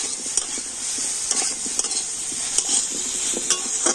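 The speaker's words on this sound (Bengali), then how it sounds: "হলুদ আর আদা দিয়ে আবার আমি সমস্ত কিছু কিন্তু খুব ভালো করে নাড়াচাড়া করে নেব" Vegetables sautéing in a pan with turmeric powder and ginger paste, stirred with a utensil. Close, steady sizzling runs under repeated scraping stirs, and no one speaks.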